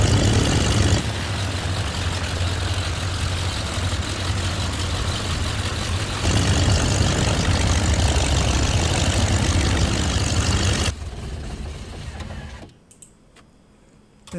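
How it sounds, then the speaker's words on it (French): Siebel BF108 Taifun vintage light aircraft engine idling, heard from the cockpit in a flight simulator: a steady, loud low drone that runs continuously, shifts slightly in tone partway, then drops away abruptly near the end. "Vous entendez le bon son du moteur dans le cockpit"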